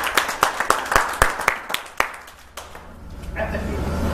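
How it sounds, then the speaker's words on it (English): Applause for speakers coming up on stage at a monthly mastermind meeting, with sharp, close claps at a brisk beat that thin out into a softer murmur of crowd noise. "give Brian a big round of applause"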